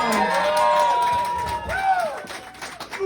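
A comedy club audience claps and cheers as the next stand-up comedian is called to the stage, a lively crowd din with whoops that tapers off over about three seconds, with a voice faintly over it.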